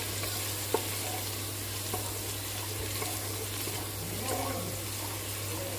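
Bay leaves, garlic and ginger sizzle in hot oil in a pan, a steady crackling fry with occasional stirring clicks, a low hum underneath and no talk.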